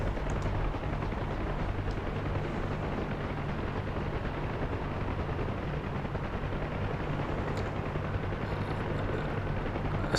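A UH-1 Huey helicopter in the DCS flight game spools up as the throttle opens, a dense, steady roar of engine and rotor that runs loud and unbroken throughout, with no talking over it.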